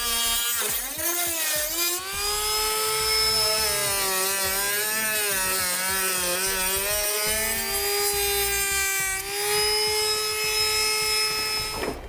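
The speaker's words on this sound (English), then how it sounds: "We need to continue on the cut here and cut off this tab." A power tool cuts through a tab on a plastic bumper fascia, a close, steady whine that dips and rises in pitch as the blade bites, with grinding noise underneath.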